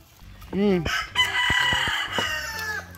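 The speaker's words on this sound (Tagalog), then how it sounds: "Doon, tingnan mo yung manok." A rooster crows once up close, a rising harmonic call that holds and then trails off, followed by a few short clucks, with a person's voice faintly present nearby.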